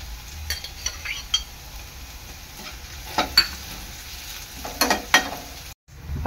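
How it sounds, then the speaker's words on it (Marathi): Ginger, garlic and chili crush sautéing in a hot pan for veg spring rolls, a steady close sizzle broken by the scrape and clink of a stirring spoon every second or so, with no talking. "अद्रक, लसूण आणि मिरचीचा क्रश टाकणार आहे। चांगलं थोडं लाल होईपर्यंत परतून घ्यायचं आहे।"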